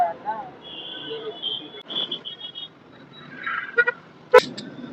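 Traffic moves along a busy market street in Srinagar, Uttarakhand, with car horns honking intermittently, the loudest near the end, under occasional voices and a high insect-like whine.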